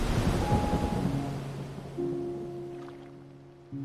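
A thunderstorm in an AI-generated scene, a deep rumble of thunder with a wash of rain-like noise, fading and swelling again, joined by low sustained tones from a music bed.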